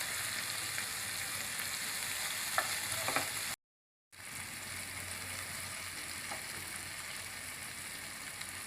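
Chopped fresh ginger sautéing with a little turmeric in a pan on low flame, a steady faint sizzle with a few light stirring clicks and a brief gap of silence midway.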